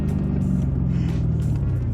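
Lexus IS F fitted with an X-Force cat-back exhaust pulling hard under acceleration, a loud, deep engine roar with steady low rumble filling the cabin.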